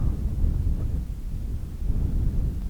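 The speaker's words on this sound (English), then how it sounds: "It's windy today, a little bit, but not nearly as windy as the last couple days." Steady outdoor wind rumbles and buffets a microphone in a national park, a continuous low roar with no voices over it.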